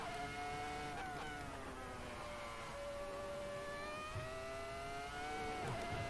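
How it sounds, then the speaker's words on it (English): A steady engine drone in a racing video game, a Ferrari F2004 with traction control kicking in as a low, uneven grumble at low revs, holding a continuous rising and falling tone without any talk. "Hear the traction control kicking in there, that little grumbly noise on the low revs."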